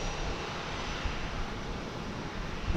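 Steady, loud roar of a Delta airliner's jet engines at DFW Airport, a dense unbroken broadband rumble holding for the whole stretch with no voices over it.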